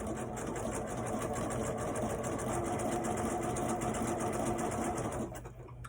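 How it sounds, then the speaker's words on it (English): A sewing machine runs continuously at a steady, even pace while sewing decorative stitches, a close mechanical whir and patter that stops abruptly near the end, with no talk. "I'm just going to keep going and do my decorative stitches"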